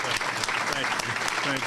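A community audience at a public meeting on the Perry Harvey Sr. Park master plan applauds an honoree, with loud continuous clapping and some crowd voices mixed in throughout.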